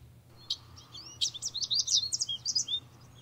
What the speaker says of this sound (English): Let's grab this birds chirping in the park and see what that sounds like.